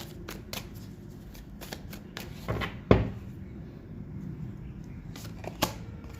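Tarot cards shuffled by hand in a series of soft riffling flutters and taps, with one sharper snap near the middle, close and fairly quiet with no talk.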